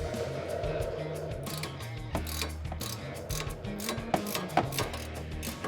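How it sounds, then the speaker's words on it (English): An 18mm ratcheting wrench tightens the sway bar end links on a 2005-2014 Mustang GT, giving a steady run of rapid, close clicking ratchet strokes throughout. "I am going to be using an 18mm ratcheting wrench for this, just to make my life a little bit easier."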